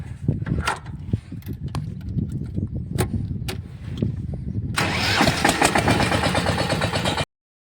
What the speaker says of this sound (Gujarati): હજી ટ્રેક્ટર આપણે સેલ્ફ મારી દઈએ આપણે અત્યારે